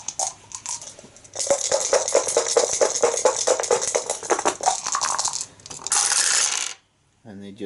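Four dice tumbling and clattering across a table during an Arkham Horror third edition board game, a busy rattling roll that ends in a few sharp settling clicks, heard alone without talk.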